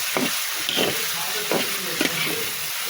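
Shrimp and eggplant frying in a pan, with a steady hiss of sizzling oil and a few scraping stirs of a spatula at irregular intervals, close and fairly loud.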